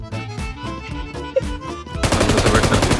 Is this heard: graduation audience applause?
no